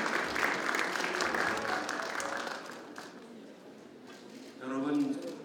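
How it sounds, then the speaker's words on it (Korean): Audience applause at a social economy New Year gathering and fund launch ceremony in Korea, a broad wash of clapping filling the hall for several seconds, thinning briefly before swelling again near the end. "여러분 따뜻한 박수를 맞춰주십시오."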